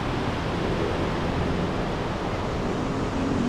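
A snow-fed river in Kelardasht, Mazandaran, Iran, rushes with a steady, loud, broadband roar of flowing water that stays even throughout, with no voices.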